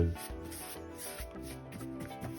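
A brush rubs steadily back and forth over the fabric soft top of a Lotus Elise S1, spreading waterproofing product with soft, scratchy strokes, close up and fairly quiet, no voices.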